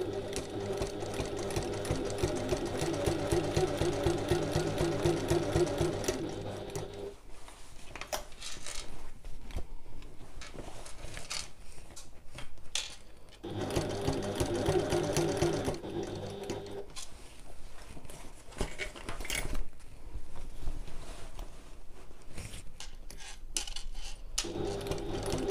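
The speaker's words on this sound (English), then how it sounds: "I'm just going to take my time sewing around the top." A sewing machine top-stitches around the top of a large fabric bag with its handles, running in long steady bursts with short pauses between them, close and clear, with no talking.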